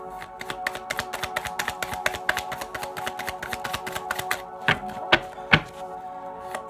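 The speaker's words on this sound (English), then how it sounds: "Final shuffle." Tarot deck getting a last shuffle: a dense run of quick papery taps and riffled card strikes, steady and close, ending in a few sharper louder thumps.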